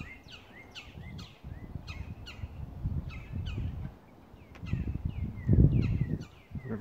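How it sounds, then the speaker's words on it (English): Several short bird calls and chirps ring out repeatedly over a rustling, noisy outdoor background, fairly close and moderately loud. "Oh no, birds."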